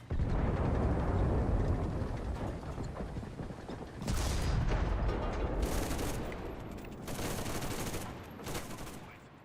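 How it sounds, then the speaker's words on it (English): Bombs exploding in a video game, heavy rumbling blasts in several bursts, a long roll at the start then sharper crackling detonations around the middle and end, fairly distant-sounding and without talk over them. "Ooh, those are bombs."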